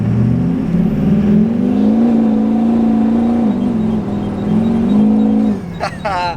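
A Minimax RC car accelerates hard with a loud, steady electric whine that rises and falls in pitch as its tires spin and break loose, continuing for several seconds before a voice cuts in at the end.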